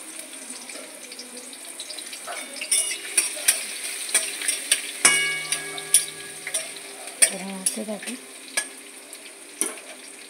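Chopped ginger, garlic and three green chilies fry lightly in oil in a pan, giving a soft sizzle punctuated by repeated clinks and scrapes of a stirring spoon, with a brief spoken word.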